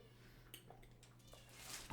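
A cat meows in a home, with a few faint, brief calls over quiet room noise and no talk.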